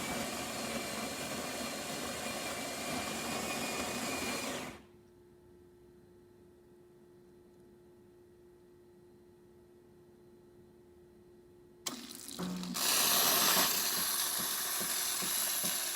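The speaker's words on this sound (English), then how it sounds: "And now steam." A Jura Impressa espresso machine's steam wand hisses loudly, stops for several seconds while a faint hum and tone remain, then a click and a renewed, brighter rush of steam follow.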